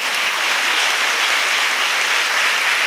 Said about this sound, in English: a big round of applause for my whole team